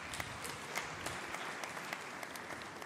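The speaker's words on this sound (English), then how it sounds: "I think you need to give yourself a round of applause." An engineering awards audience claps for themselves in a hall, a fairly faint but continuous spread of many hands with a few sharper individual claps standing out.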